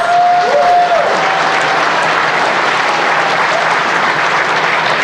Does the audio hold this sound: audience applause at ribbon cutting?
yes